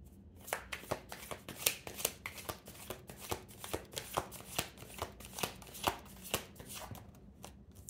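Tarot cards being shuffled by hand, a close series of quick riffling bursts and soft taps in an uneven rhythm, moderately quiet with no talking.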